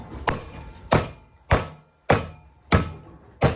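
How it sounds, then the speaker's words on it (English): A pulley being hammered onto a bearing housing of a GSX rear roller assembly: six sharp, evenly spaced metal strikes roughly every half-second, close and loud, with no talk. "We're going to hammer it on."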